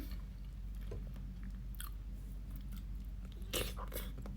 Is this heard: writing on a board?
no